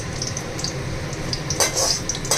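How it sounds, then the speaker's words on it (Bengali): Black cumin and green chili sizzle in hot oil with a constant crackle, and a couple of sharper scraping bursts come from stirring near the end. "কালো জিরে কাঁচা লঙ্কা ফোড়ন দিয়ে দিয়েছি"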